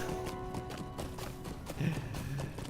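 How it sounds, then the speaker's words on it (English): Horse hooves clip-clop at a steady walking rhythm while riding in the online game Lord of the Rings Online, a set of quiet, evenly spaced thuds with faint background game sound and no talk. "rides his horse, one clop at a time"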